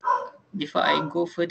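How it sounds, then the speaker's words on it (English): Short, nearby dog barks come in quick bursts and overlap a person talking at a seminar. "if you heard any dog barking"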